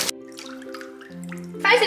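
Water rushes into a bathtub turning pink and purple from bath colouring, a steady splashing hiss that swells loudest near the end while a person talks and sustained tones play over it.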